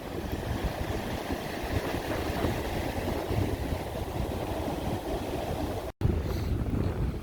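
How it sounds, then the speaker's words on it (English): Steady roar of ocean surf on a Washington coast beach at Damon Point, a continuous broadband wash of waves mixed with wind buffeting the microphone, with a brief dropout near the end. "A lot of these rocks I gotta pick up quickly before the surf takes them away."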